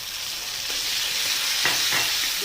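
Ginger, garlic and chili paste frying in a pan after browned onions, a steady close sizzle with a couple of brief stirring scrapes near the end, loud and continuous, no talking.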